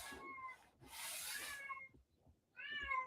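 Hungry cats meow for breakfast, several drawn-out cries close by with a rustling, rubbing noise between them and no talking.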